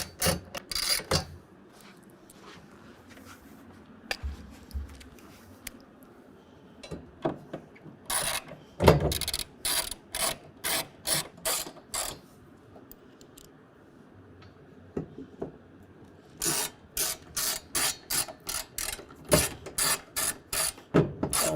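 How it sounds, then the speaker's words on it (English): A ratchet snugs down bolts on a BAK Revolver X4TS tonneau cover on a 2022 Toyota Tundra, giving bursts of quick, close clicking separated by pauses, with no talking. "I'm going to go ahead and tighten this one down"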